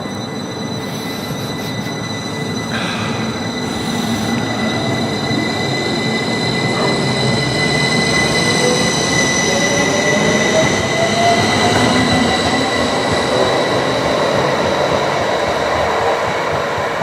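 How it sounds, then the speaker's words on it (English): A passenger train departing for Leeds rolls steadily past, a continuous rumble of wheels with high metallic squeals and ringing tones over it, fairly close and loud throughout. "this is the Leeds service heading off to Leeds"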